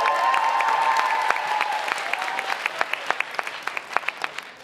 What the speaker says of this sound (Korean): 다시 한번 박용택 선수 이하 선수분들에게 힘찬 박수 부탁드립니다